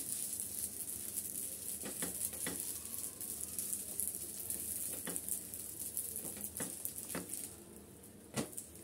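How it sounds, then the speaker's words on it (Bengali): Aloo kuncha fries in a pan and is turned over now and then, giving a soft, steady sizzle with occasional clicks and taps from the utensil. The frying sits fairly quiet and close. "এভাবে উল্টিয়ে পাল্টিয়ে আমি এটা একটু ভেজে নিচ্ছি"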